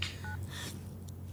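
A telephone being dialed in an Iranian TV drama, short keypad tones close up in a quiet room, with no talking.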